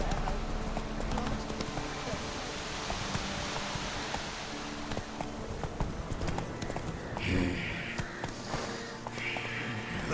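A horse gallops in The Witcher 3 with a steady, dense clip-clop of hooves under constant outdoor ambience, loud and continuous, with a brief rustle or snort near the end.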